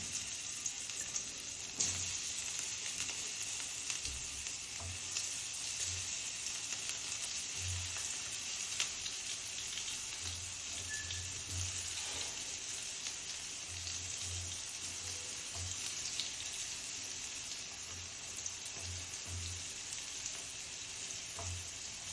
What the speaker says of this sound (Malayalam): അപ്പോൾ ഇനി നമ്മൾ മിക്സ് ചെയ്ത് വെച്ച സോയാബോളിന് ഇതിനകത്തേക്ക് ഇട്ട് കൊടുക്കാം